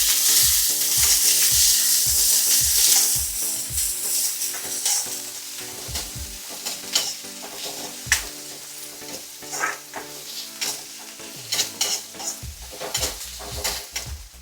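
Chopped onions sauté in hot oil in a pan, a steady loud sizzle with repeated scraping strokes from a spoon or spatula and occasional clinks against the pan, with no talking.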